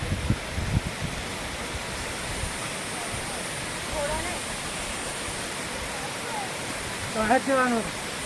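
A steady broadband rush of a river falling at Hathni Mata waterfall over bare rock fills the background, with faint voices briefly heard over it near the end.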